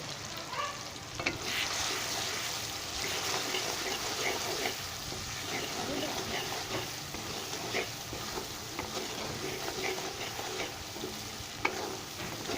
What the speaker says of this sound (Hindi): अभी इसमें मैं नमक मिर्च और हल्दी जो है वो शामिल कर लेता हूँ और इसको भी अच्छे से मैं भून लूँगा